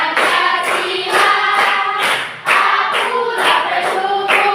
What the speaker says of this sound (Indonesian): Anda nyanyi sambil tepuk tangan.